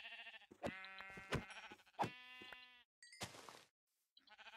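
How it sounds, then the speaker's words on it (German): Sheep in the Minecraft video game bleat in several loud, close, wavering calls in quick succession, broken by short clicks and a brief noisy burst, with no talking. "Oh, Schafe. Wir brauchen noch ein paar Schafe."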